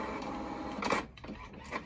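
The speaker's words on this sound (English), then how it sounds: "It's printing." An HP OfficeJet Pro 6978 inkjet printer prints a test page on the floor indoors: a quiet mechanical whir with a sharper feed clunk midway and a brief later click, close and faint, with no speech.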